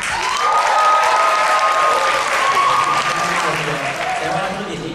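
A seminar audience of network-business entrepreneurs cheers and applauds loudly as a sustained, dense crowd roar with a few whistles over the top, filling the room for about five seconds.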